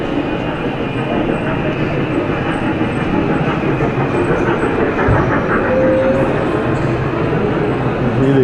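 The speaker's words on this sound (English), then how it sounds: "You can bring the kids, they enjoy train in a shopping center" A small kids' train ride rolls through a shopping centre, its steady rumbling wheels and faint clicking running continuously and fairly close, with a brief squeak partway through.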